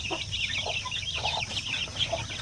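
Around ten pure Basilan chickens cluck continuously at close range over a steady background hiss.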